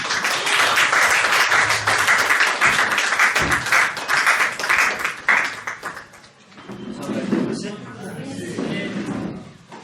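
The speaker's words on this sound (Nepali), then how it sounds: "उहाँलाई ताली बजाएर हामी स्वागत गर्छौँ।" A church congregation claps to welcome a speaker to the front, a loud burst of applause with some thumps that fades after about six seconds into a man's speech.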